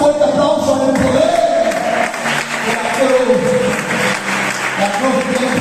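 A church congregation applauds during a sermon on the power of the cross, continuous crowd clapping running under a preacher's raised voice throughout.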